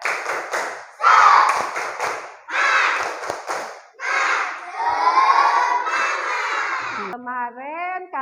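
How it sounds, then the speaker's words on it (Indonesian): A classroom of children perform a rhythmic clap chant in a lesson, with bursts of patterned clapping alternating with loud shouted, chanted voices, and a teacher's voice close by at the end. "Tepuk semangat."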